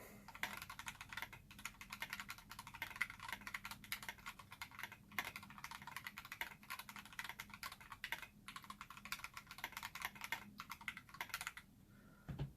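Rapid, steady clacking of a KAT Alpha mechanical keyboard with Milky Top Gateron Yellow switches, an aluminum plate and case foam, typed on up close, a dense stream of keystrokes with occasional brief pauses.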